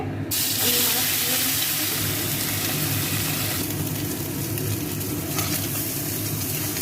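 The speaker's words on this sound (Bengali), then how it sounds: "মাছটা ভাজা হয়ে গেছে, এবার নিয়ে নিচ্ছি।" Sea moorla fish, heads cut off, fries in hot oil with a loud, continuous close sizzle and hiss that barely lets up from start to finish.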